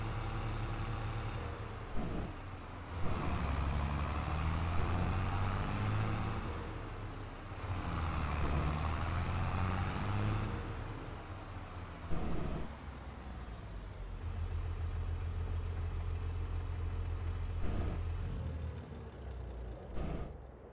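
A tractor engine in Farming Simulator 22 drones steadily and loudly throughout, a low continuous rumble with a few brief clanks and thumps breaking through.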